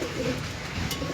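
Pigeons kept for sale coo softly at close range, a short low throaty burble against a faint background hum.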